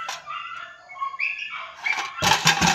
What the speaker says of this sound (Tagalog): Ang ingay-ingay ng mga aso sa labas.